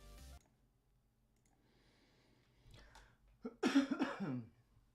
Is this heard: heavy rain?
no